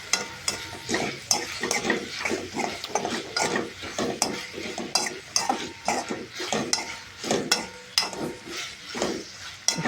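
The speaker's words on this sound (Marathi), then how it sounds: "आता सगळे मिक्स करून घेतो" A spoon scrapes and stirs a vegetable biryani mixture with cauliflower and turmeric in a hot kadai. Rhythmic strokes repeat steadily throughout over a constant sizzle, close and fairly loud, with no talking.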